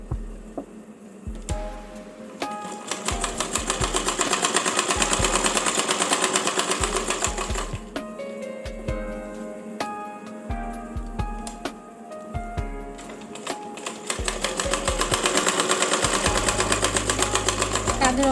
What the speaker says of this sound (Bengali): একইভাবে আমি এই পাশেও কাঁধের অংশটুকু সেলাই করে নিব।